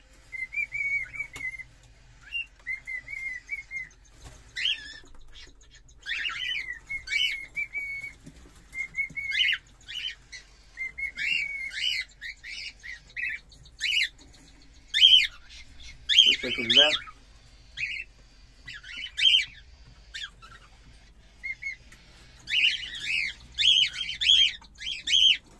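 Pet cockatiels kept for breeding chirp and whistle in bursts of bright trilling calls, repeating rhythmically and growing busier toward the end, close and fairly loud in a quiet room.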